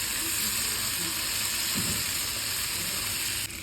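Appam batter sizzles in hot ghee and oil in a hollowed pan, a soft, steady broadband hiss that holds evenly close by, with a faint brief bubbling in the middle and no talk.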